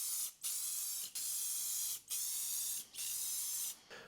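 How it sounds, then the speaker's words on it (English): Five bursts of clear coat sprayed onto a wooden Plinko board, each a loud steady hiss lasting under a second with brief gaps between passes, close to the microphone and without voices. "Then it was time to put on the initial coat of clear coat."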